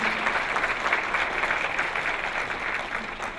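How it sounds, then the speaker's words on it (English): An audience at a premiere Q&A claps warmly in an even, continuous wash of applause, moderately distant and steady throughout. "Let's give Steve a giant round of applause."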